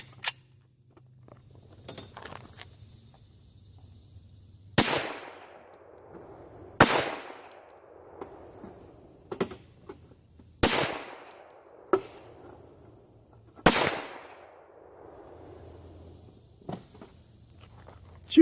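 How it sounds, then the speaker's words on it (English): Sharp, loud .45 pistol shots firing 230-grain jacketed hollow-point bullets over light Alliant shotshell powder loads at a 25-yard outdoor range, about seven cracks spaced irregularly a second or two apart, with faint background rumble between them. "Shooting at 25 yards this morning."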